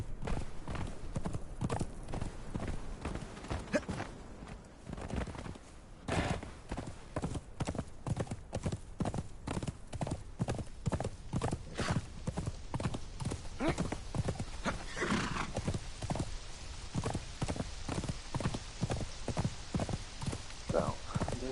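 A horse's hooves clip-clop in a steady, rhythmic trot through the Exiled Lands of the video game Conan Exiles, close and clear, with a brief whinny early on.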